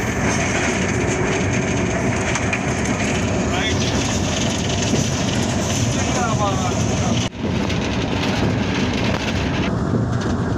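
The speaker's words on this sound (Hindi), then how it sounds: "ये जनाब हज़ारा एक्सप्रेस कराची की तरफ सफ़र जिसका रवां दवा है।" The Hazara Express passenger train runs toward Karachi across the Chenab River bridge, filling the clip with a loud, continuous, dense rumble and rushing noise heard from on board, with a brief dip near the middle.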